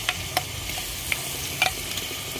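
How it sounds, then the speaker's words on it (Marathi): Onion and coconut masala paste sautéed in oil for a village-style chicken curry, a continuous low sizzle broken by a few sharp spoon clinks against the pan, close with no talk. "याला पण आपण छान परतून घ्यायचं"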